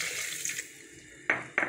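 A glass of water streams into a jug holding plums and sugar for plum sharbat, a steady gurgling pour that ends in two short splashes, close and fairly quiet.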